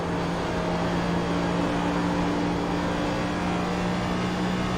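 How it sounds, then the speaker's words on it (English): A NASCAR Cup Series race car rolls down pit road at Homestead-Miami, its engine a steady, dense drone with a low tonal hum that holds unchanged from start to finish, fairly loud and with no voices over it. "Rick Javorka bringing that car down the pit road"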